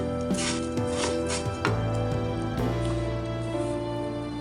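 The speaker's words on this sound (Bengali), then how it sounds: "আচ্ছা সেমাই ঢেলে কিছুক্ষণ নাড়াচাড়া করব।" Two packets of vermicelli are stirred in butter in a pan with a spoon. The scraping and rustling comes in irregular bursts with sharp clinks over a steady low hum, and no one speaks.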